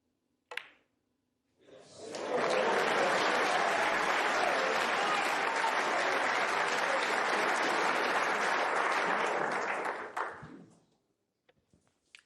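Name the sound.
snooker crowd applauding and cheering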